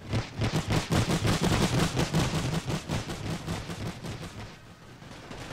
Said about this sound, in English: the machine guns are really cutting down the cavalry